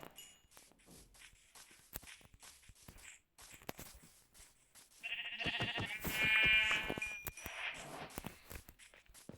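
Sheep bleat a few times in a glitching video game, over soft shuffling footsteps and light clicking sounds, with one louder bleating cluster in the middle.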